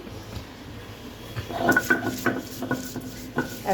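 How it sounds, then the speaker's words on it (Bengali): A cup of onion is ground on a grinding surface into a very fine paste for a prawn cutlet. Rhythmic, close rubbing and scraping strokes start after a quiet opening, with no voices. "এক কাপ বা হাফ কাপ পরিমাণ পেঁয়াজ আমি বেটে নিচ্ছি"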